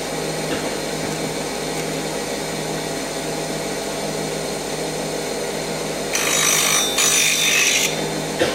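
Wood-turning tool being sharpened on a grinding wheel, a steady motor hum and whir throughout, then a louder harsh grinding hiss in two bursts as the steel meets the wheel near the end.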